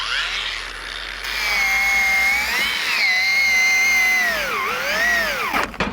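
Mellif AG-DW20 cordless angle grinder running at its first speed, a loud steady whine that bends down in pitch as the disc is loaded and bogged, then cuts off abruptly at the end.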